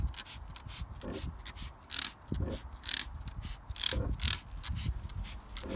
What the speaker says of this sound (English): the pulsating noise in the background is, because I've forgotten to tighten up the connection from the hose to the stubby gun